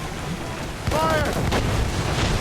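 A ship's cannons fire in Assassin's Creed Rogue, a deep booming blast landing partway through over rumbling sea and battle noise, followed by another heavy thud as the barrage rolls on.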